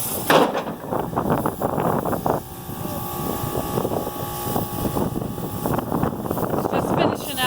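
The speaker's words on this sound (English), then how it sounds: "It's really windy and the air compressor's on" Strong wind buffets the microphone outdoors without letup while an air compressor runs nearby beside a Ford F750 box truck being cut apart. The roar stays loud and unbroken for the whole stretch.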